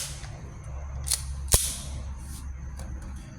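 An Army R615 John Wick 4 Pit Viper airsoft pistol fires a sharp, snappy shot, with a lighter crack just before it, close and loud over a faint background hum.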